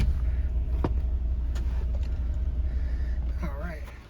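A 2009 Volkswagen Beetle with a slipping transmission rumbles along on a test drive, a steady low road and engine drone heard from inside the cabin, with a voice speaking near the end.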